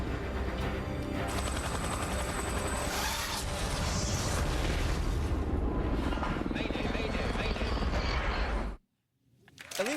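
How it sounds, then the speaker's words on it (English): A helicopter sequence from the action film London Has Fallen: loud, continuous rotor and mechanical roar mixed with rapid gunfire and impacts, ending in an abrupt drop to near silence before sound returns. "Real glad you weren't in that helicopter."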